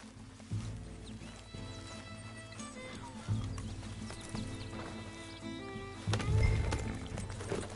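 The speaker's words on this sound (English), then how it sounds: "Just get back on the horse, Arthur!" Horse in the video game Red Dead Redemption 2 clip-clops along at a steady rhythmic pace with occasional whinnies and snorts, close and clear over a low ambient game background.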